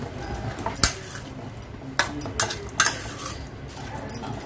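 A spoon stirs spices, including coriander powder, in a cooking pot for chicken curry, making several sharp metallic clinks and scrapes at irregular intervals against a quiet background.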